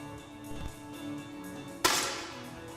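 A 10m air rifle fires once during the standing SH1 event at the World Shooting Para Sport Championship, a single sharp crack rising out of a quiet hall, with a faint hum and a soft earlier thump.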